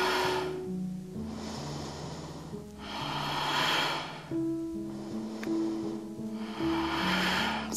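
Slow, audible inhales and exhales during a Pilates exercise rise and fall in long, steady cycles, close to the microphone, over a soft musical backdrop.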